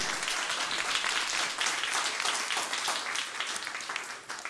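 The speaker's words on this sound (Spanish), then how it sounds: "Dale un aplauso al Señor" A church congregation claps together, a dense, even wash of many hands that stays loud throughout and tapers slightly at the close, with no voices standing out.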